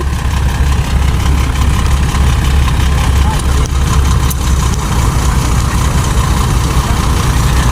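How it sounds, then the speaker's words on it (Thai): A heavy farm tractor diesel engine drones steadily at close range while pulling, a deep constant rumble that holds for several seconds without pause. "รถไถดึงมันง่ายเกินไปนะครับ"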